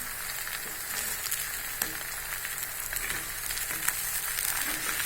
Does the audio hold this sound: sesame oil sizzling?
yes